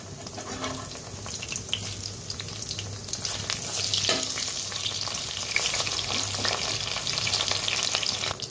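Jute leaf fritters (bora) sizzle steadily in hot oil while being flipped one by one, a dense bubbling hiss broken by light clinks of the turning utensil.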